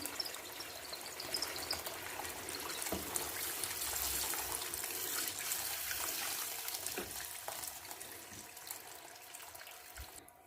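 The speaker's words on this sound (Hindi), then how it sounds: "इस जग के अंदर जो है वो 3 गिलास पानी है, तो 1 गिलास मैं और इसमें ऐड करूँगी" Water pours from a jug into a pot of peas for pulao, a steady, fairly quiet rushing splash that runs continuously for about ten seconds with no talking.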